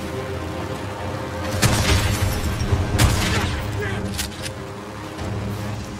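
Gunfire in Days Gone as shots are fired at a biker's motorcycle, loud cracking bursts over engine rumble, with someone shouting close by.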